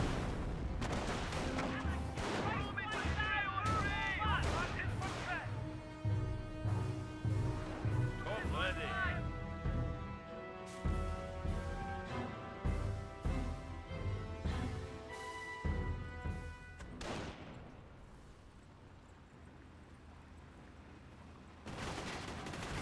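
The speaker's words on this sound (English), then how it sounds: "Mortar half track, more firing away." A mortar half-track in the strategy game Company of Heroes fires repeatedly, dull booms and cracks of battle layered with other gunfire, loud early and thinning out later, while a commentator talks over the action.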